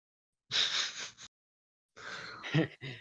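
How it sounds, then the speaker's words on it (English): A dog breathes close against someone's face, two short, breathy huffs and snorts, close and fairly quiet, separated by a pause, with no talk. "Hello, dog. Breathing on my face."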